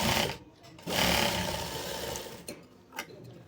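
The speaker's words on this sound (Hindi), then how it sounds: "और इस तरह से दाब सिलाई लगा लेंगे।" A sewing machine runs in close, loud bursts as it stitches saree fabric into a kurti, with a short fast run, a longer steady stretch, then brief stop-start taps.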